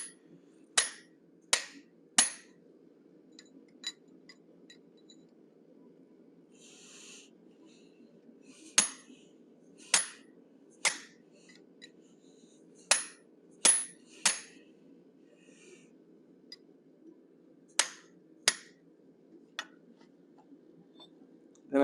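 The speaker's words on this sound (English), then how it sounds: "So now I'm using a triangular shaped pointed punch." Sharp hammer blows drive a triangular pointed punch into hot forged steel, landing as spaced single strikes and quick pairs, ringing clearly against near silence.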